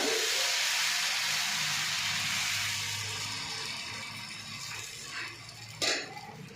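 Dosa batter poured onto a hot oiled pan for Madurai-style kari dosa, a loud steady sizzle and hiss that slowly fades, followed near the end by a couple of brief metallic clinks from a ladle or pan.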